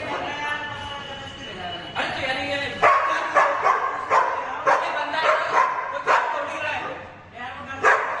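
A dog barks and yips repeatedly inside a lift, sharp loud barks in quick, uneven bursts, with people arguing nearby.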